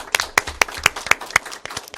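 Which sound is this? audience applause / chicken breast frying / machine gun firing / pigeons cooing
audience applause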